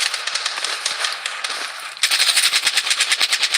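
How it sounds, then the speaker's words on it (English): Steady bursts of rapid automatic gunfire fill a video game firefight, a fast rattling stream that grows louder and more sharply pulsed halfway through, with no speech. "Taking fire!"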